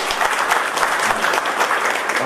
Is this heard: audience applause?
yes